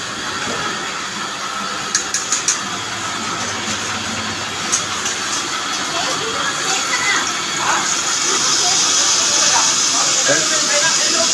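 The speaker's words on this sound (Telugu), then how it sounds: "స్టవ్ ఆన్ చేసుకోవటం." A gas stove burner switched on in a home kitchen with a pot set on it gives a steady, moderately loud hiss that runs throughout, with a few faint clicks near the start.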